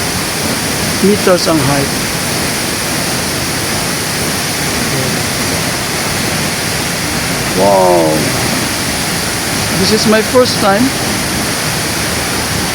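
Old Casaroro falls, a tall waterfall pouring with strong force: loud, steady roaring rush of falling water close by, with short bursts of people talking and exclaiming over it.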